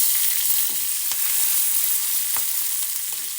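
Cumin, mustard seeds and a garlic-ginger paste frying in hot oil, a constant close sizzle with a few faint ticks and pops from stirring, no voices.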